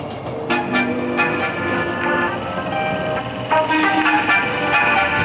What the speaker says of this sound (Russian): Очень прикольный старый трамвай, в котором такое ощущение, что ничего не меняли уже лет 50-60 точно.